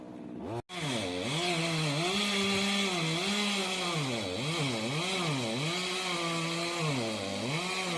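A chainsaw cuts through a section of a hazardous tree during arborist removal work, running loud and continuous after a brief break near the start, its pitch rising and falling as the chain bites into the wood.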